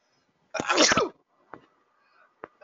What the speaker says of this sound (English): I'm going to sneeze. I felt that one coming.